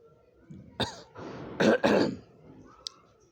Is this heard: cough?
yes